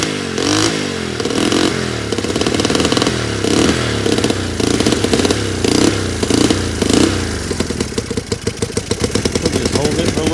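A Honda CL175 motorcycle engine running just after its first start, a loud, close, uneven idle with rhythmic revving surges and clattery mechanical sound throughout.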